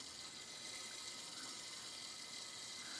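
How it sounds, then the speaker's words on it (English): Water seeping from a plumbing slab leak makes a steady, faint hiss and trickle, even and unbroken throughout with no voices. "The water is now seeping."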